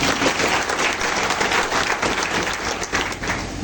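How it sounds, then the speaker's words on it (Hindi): Audience applause at a community gathering in Chhindwara, steady dense clapping from a sizable crowd that stays loud throughout with no pauses. "तो एक बार तालियों की गड़गड़ाहट होनी चाहिए।"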